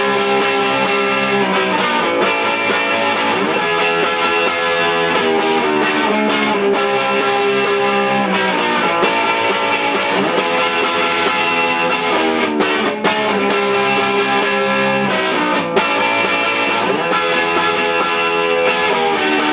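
Distorted electric guitar plays the riff of a song at full speed, loud and steady with dense sustained chords and no talking.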